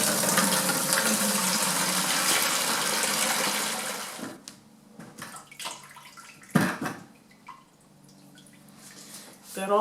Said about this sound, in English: Going to dump all this battery acid out of here and replace it with distilled water and Epsom salt.